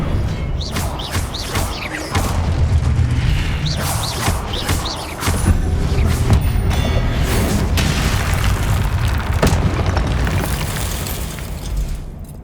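Repeated booming spell explosions from the Confringo fire spell in Hogwarts Legacy, heavy rumbling blasts layered with crackling bursts that stay loud and dense throughout.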